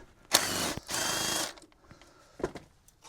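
Ratchet wrench working a stubborn bolt loose on a Golf GTI engine: two dense bursts of rapid clicking, the second longer, followed by a few faint taps and knocks.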